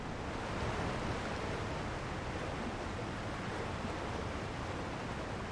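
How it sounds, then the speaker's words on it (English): Water pours from a waterfall beside a cave in the video game Elden Ring: Shadow of the Erdtree, a steady, even rushing hiss that fills the space without pause, moderately loud and with no voices. "This is a cave behind a waterfall."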